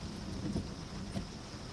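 Live thunderstorm in the Guthrie area of central Oklahoma, faint steady rain with a low distant rumble of thunder beneath it, quiet and continuous throughout.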